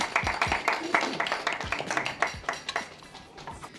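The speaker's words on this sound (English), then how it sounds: "round of applause, everybody." Scattered applause from a small audience at a business talk, uneven sharp claps with some louder ones close by and a few thuds, thinning toward the end.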